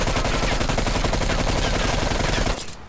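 An assault rifle in Call of Duty Cold War fires in one sustained rapid automatic burst, loud and close with a dense, even rhythm of shots, trailing off at the end.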